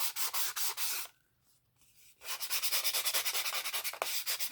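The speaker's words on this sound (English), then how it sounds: "I'm just sanding this down" An object is sanded down by hand with quick, rhythmic rubbing strokes, close and fairly quiet, pausing briefly before the scraping resumes.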